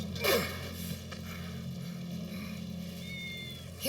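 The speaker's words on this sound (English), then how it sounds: "That's Wedge's cat." A cat meows in Final Fantasy VII Remake: one short, fairly clear meow near the start, followed by faint game ambience and small movement sounds, with no talking.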